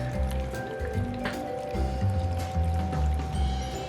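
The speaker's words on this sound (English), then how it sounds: "add hot milk" Hot milk is poured over sliced potatoes and onion for old-fashioned scalloped potatoes, a continuous, splashy pouring wash lasting several seconds, fairly close and steady.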